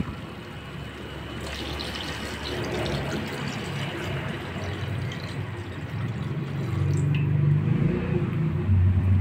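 Water pours into a pot of chicken sinigang, a soft continuous splashing and filling sound that grows a little louder and fuller toward the end, close by and with no talking.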